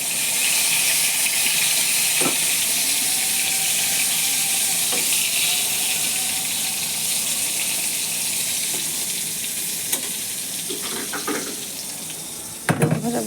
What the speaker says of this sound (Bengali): তো এই যে বেগুন ভাজাগুলো এখন ভেজে নিচ্ছি